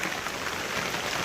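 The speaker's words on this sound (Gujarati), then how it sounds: "આમ ફૂલ વરસાદ ચાલુ હોય યાર" Heavy rain falling on a muddy road, a dense, even, broadband hiss of rainfall that holds steady through the short moment, moderately loud and close.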